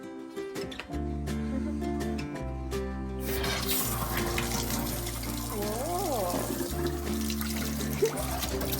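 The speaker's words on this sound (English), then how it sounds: "Time to test out the tap." An outdoor kitchen tap being tested after a leak repair, with steady running water over a sustained musical backing, getting fuller and louder partway through and continuing to the end.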